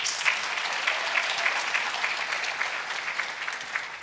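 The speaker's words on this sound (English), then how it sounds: "Let's give them a round of applause." A conference audience claps in a steady, even round of applause that stays at a moderate, sustained level from start to finish.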